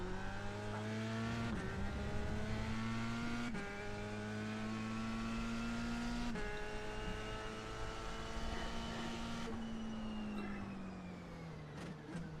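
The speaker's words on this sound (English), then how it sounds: "it's an F3 car, the Dallara F3" Dallara F3 race car engine in iRacing, a high-pitched whine that drops sharply on several quick upshifts and climbs again, with a long deceleration near the end, loud and continuous with no talk.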